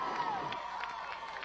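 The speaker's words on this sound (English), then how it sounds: "nice crowd" Spectators at a high school football game in North Mason, with visitors from Shelton, form a steady crowd murmur with scattered shouts and cheers, heard from a middle distance in the stands.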